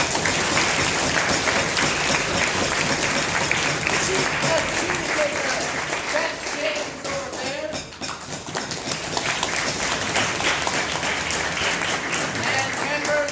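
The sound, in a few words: applause for the CAP panel at debate closing ceremony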